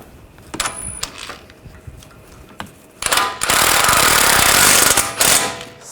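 Nut being tightened onto a front ball joint of a 2009-2010 BMW 535i xDrive, with a few light metallic clicks first, then a loud, sustained buzzing rattle of a power tool running close by for about two seconds.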